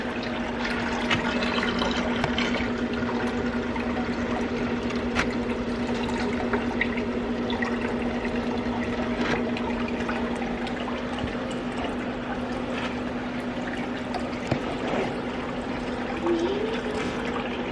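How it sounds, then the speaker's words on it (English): A tank vacuum suctions dirt while water spits and sprays out, making a continuous watery gushing and trickling over a steady motor hum, constant and close throughout. "You know that water thing spitting water out?"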